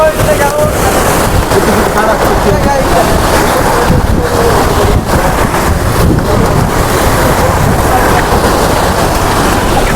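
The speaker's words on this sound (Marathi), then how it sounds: "असा तर धबधबा या ठिकाणी परत आहे" Sahastrakund waterfall in Nanded district roars as a loud, dense, continuous wash of falling water, with wind buffeting the microphone throughout.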